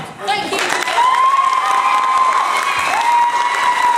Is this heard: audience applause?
yes